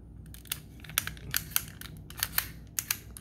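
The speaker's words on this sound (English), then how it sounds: "Now when you do that, you push it in and clicks." A Ford F150 headlight switch is pushed in and worked by hand, giving a series of sharp, close plastic clicks and snaps spaced irregularly over a quiet background.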